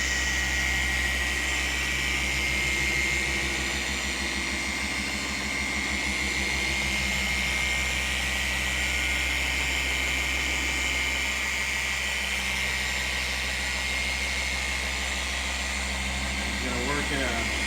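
A car polisher runs at speed 4 spreading polish before a McKee's 37 ceramic coating, a loud steady motor hum and whine that holds throughout.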